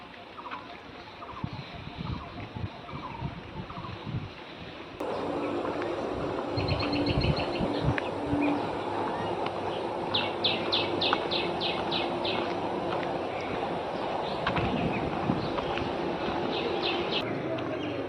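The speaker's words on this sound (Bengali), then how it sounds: "পাখি ডাকছে" Birds calling among trees on the grounds of a tourism property, scattered chirps and short trilled bursts over outdoor ambience and low rumble, with a person talking in parts.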